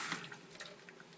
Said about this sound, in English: The water filling up.